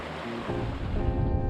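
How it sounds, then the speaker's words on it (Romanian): A mountain stream rushes and fills the whole moment, a steady close wash of flowing current without any voices. "merg printr-un pârâu"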